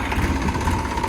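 A decorated farm tractor with a thresher attached, running at a steady idle during a cumin harvest: an even, low, throbbing engine drone with no talking.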